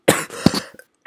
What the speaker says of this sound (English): I can't just not cough